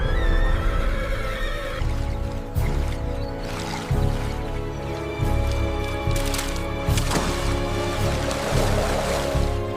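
A herd of horses neighs and whinnies while crossing a river, over a dense, churning roar of splashing water and movement, loud and continuous throughout.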